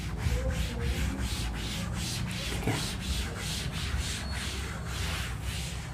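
Writing being rubbed off a board in a chemistry lecture room, with steady, rhythmic back-and-forth scrubbing strokes, close and fairly loud, with no talking.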